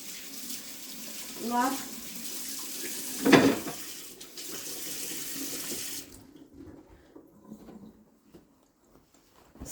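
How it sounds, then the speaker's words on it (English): Hands are washed under a running tap at a kitchen sink, a steady close splash of water for about six seconds with a brief louder burst, with a voice speaking over it before the flow stops. "So now I'll wash my hands"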